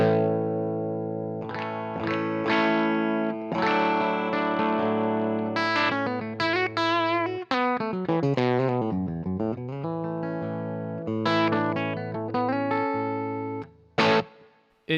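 Electric guitar through a UAFX Lion Plexi amp modeler pedal with the guitar volume rolled back to about 6 or 7, giving a lightly driven tone: strummed chords and single-note runs with bends, ringing sustain and brief pauses, played alone.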